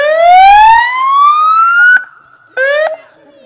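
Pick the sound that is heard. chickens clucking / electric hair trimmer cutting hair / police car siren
police car siren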